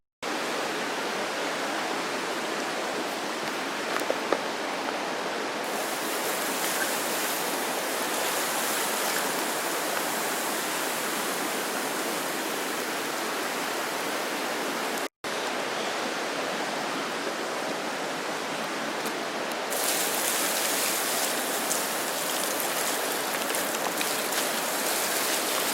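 Water pours steadily onto a campfire pit to douse it, a continuous broadband rushing hiss lasting the whole stretch, close and fairly loud, with a brief break midway and no talking.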